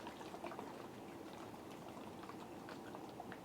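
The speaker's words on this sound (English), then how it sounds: "You can tell it's starting to boil" Tuna pie filling thickened with cornstarch and water starts to boil in a pan, a faint steady bubbling with small scattered pops and no talking.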